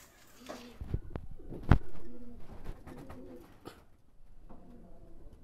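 Two Oman-size pigeons cooing softly after being let go, with a few sharp clatters and thumps of handling or wingbeats in between; no voices.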